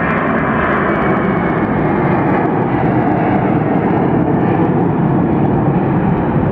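An Airbus A330 jet airliner taking off at Hartsfield-Jackson Atlanta International Airport, a loud, steady, broadband engine roar filling the whole span without pause.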